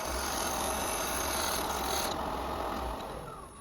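A small parting tool cuts into a miniature wooden hollow form spinning on a lathe, giving a steady close raspy scraping that eases off near the end.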